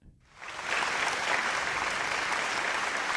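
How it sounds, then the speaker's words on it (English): A studio audience breaks into sustained applause at a live music show, rising quickly after a brief quiet start and holding steady and loud throughout. "The applause are amazing."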